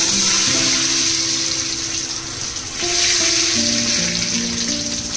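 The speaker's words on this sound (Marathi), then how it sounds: "डायरेक्ट तेलामध्ये फ्राय करून घेणार आहे" Alu vadi, colocasia leaf rolls, frying directly in hot oil in a home kitchen, with a loud continuous sizzle and crackle close by that never lets up.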